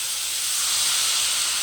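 Chickpea-flour batter for vada pav poured into hot oil, giving a steady, loud broadband sizzle that holds evenly throughout, with no talk over it.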